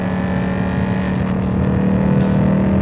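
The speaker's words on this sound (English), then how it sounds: "And that engine note's just fun," A Ford Mustang Mach 1 engine drones steadily while driving, with a low, even note and slowly rising harmonics. It is heard up close from inside the car, with no talking.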